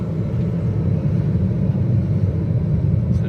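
Daihatsu Hijet 4WD mini truck driving, a steady low engine and road rumble that stays constant and fairly loud throughout, with no voices over it.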